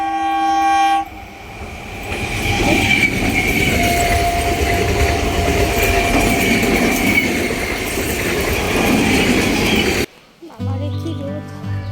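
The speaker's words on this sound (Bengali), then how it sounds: "এই ট্রেন আসছে" A train passes close by on a railway line through sal woods, its horn sounding near the start before the loud rumble and clatter of wagons rolls past for several seconds; brief voices are heard at the edges.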